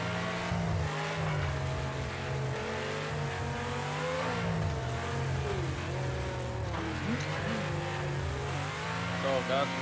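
A car engine revs and accelerates through the gears in the racing game Wreckfest, rising and falling whine with tire noise throughout, while a player talks over it.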